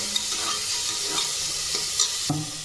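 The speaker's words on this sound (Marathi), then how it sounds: "एक चमचा प्रथम चमचा एक टाकते आणि परत छान कांदा परतवून घेते" Chopped onion sautéing with a spoonful of spice in a pan, a continuous sizzle broken by several scraping stirs of a spoon against the metal, close and fairly loud, no voices.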